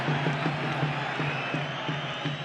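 Stadium crowd noise during a Real Zaragoza versus Deportivo de la Coruña league football match, a steady broad roar with faint scattered cheers and whistles swelling slightly, heard continuously without clear speech.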